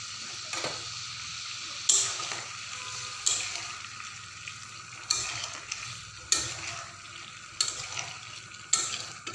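A spoon scrapes and stirs a fish, bean and potato curry in a pan, with a soft steady sizzle underneath and distinct stirring strokes roughly every second or so, close and moderately loud, no talking.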